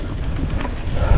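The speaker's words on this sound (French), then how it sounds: "Il y avait autant de vent qu'aujourd'hui." Strong wind sweeps along the Mont Saint-Michel bay, giving a loud, continuous low rumble of gusts buffeting the microphone, with no voices.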